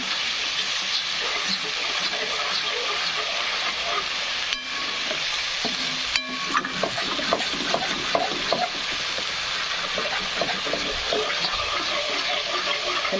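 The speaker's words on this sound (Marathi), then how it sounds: "मसाले आहेत ना छान फ्राय होऊ द्यायचे" Spices frying in oil for a spicy mutton rassa gravy, a constant hissing sizzle broken by brisk stirring scrapes and small clicks, strongest in the second half.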